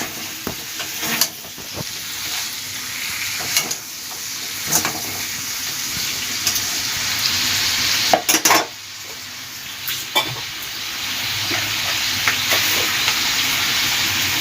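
Vegetables with greens stalks (note greens) sizzle steadily in a pan over lowered heat, with occasional sharp scrapes and clinks of a spatula stirring them; no one speaks.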